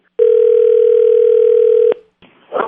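A telephone dial tone sounds loud and steady for nearly two seconds, then cuts off abruptly, followed by a brief faint click and rustle on the line.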